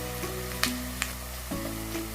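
Soft onions sautéing in a pot for mutton kunna give a steady low sizzle with a couple of sharp clicks of a utensil against the pot, before roughly a kilogram of mutton goes in.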